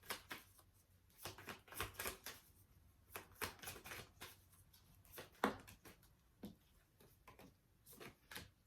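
Tarot cards shuffled and drawn from a deck, a run of close, crisp riffling flicks and snaps in irregular bursts, fairly quiet with no talk.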